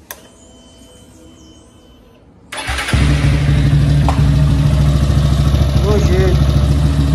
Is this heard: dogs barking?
no